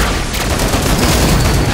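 Pistol gunfire in the video game Killing Floor 2, loud and dense, with rapid overlapping shots and booming impacts filling the whole moment without pause.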